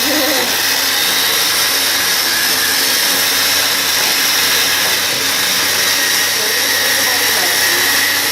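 A smoothie blender running at full power, a loud, continuous high-pitched whirring roar held steady throughout with no pauses.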